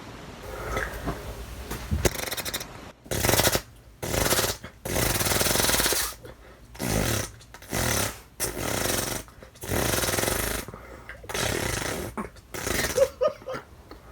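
A person imitates an air impact wrench with the mouth, giving a series of loud, buzzing rattling bursts of varying length separated by short pauses, in a sound-mimicry contest.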